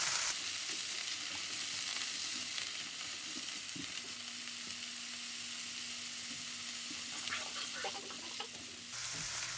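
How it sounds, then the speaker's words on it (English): Butter melting over vegetables in a pan, a steady close sizzle and crackle that runs throughout with light spatter and no talk. "The next thing I do is I add the butter and just let it melt down."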